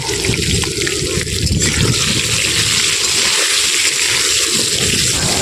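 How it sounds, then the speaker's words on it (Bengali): Potatoes frying in hot mustard oil with turmeric and salt at an outdoor village cooking spot, a dense continuous close sizzle with wet crackling that holds steady throughout. "এবারে আলু ভাজবো, আলু ভাজার জন্য দিয়ে দিলাম আলু"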